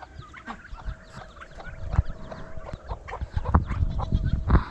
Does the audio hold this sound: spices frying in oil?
no